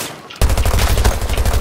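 Rapid automatic gunfire in the Battlefield 2042 video game starts abruptly after a short quiet moment, then continues as a dense, loud, close burst of shots with heavy low-end punch.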